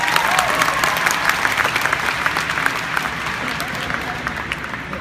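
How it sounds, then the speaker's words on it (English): An audience applauds a brave volunteer after a taste demonstration. The clapping is steady and sustained, with a crisp patter of many hands at moderate volume from start to finish. "Ziwei, give him a round of applause."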